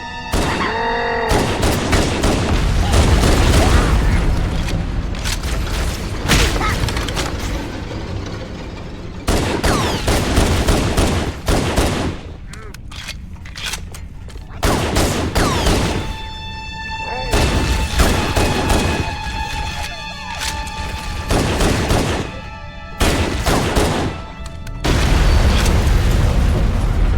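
Bursts of gunfire and booming explosions from the first-person shooter Halo: Combat Evolved Anniversary, fighting the Covenant. Loud, dense volleys come in repeated waves, with short quieter gaps between them.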